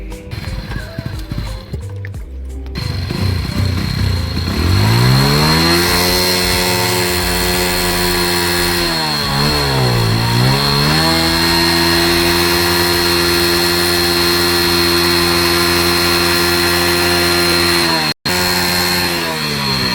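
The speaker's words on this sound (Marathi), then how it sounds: "हे त्या सायलेन्सरच्या आवाजाने ते माती पडते सगळी हळूहळू" A vehicle engine revving loudly through its silencer, rising and falling in pitch with a strong droning hum, close and sustained for most of the stretch after a rough start.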